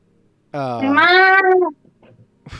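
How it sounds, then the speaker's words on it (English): A cat gives one loud, drawn-out meow up close, lasting about a second, followed by faint rustling in an otherwise quiet indoor room. "Is that your fucking cat?"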